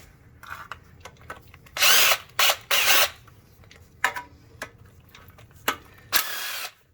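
A power tool loosens the transmission pan bolts on a Hummer H2, whirring in several short, loud bursts of varying length separated by quieter clicks and pauses, close up and with no talking.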